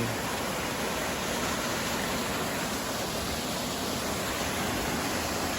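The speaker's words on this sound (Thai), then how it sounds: "นี่ก็จะเป็นบรรยากาศน้ำตกนะครับ" Steady, loud rushing water from a forest waterfall at a camping spot, a dense unbroken roar filling the whole stretch with no voices.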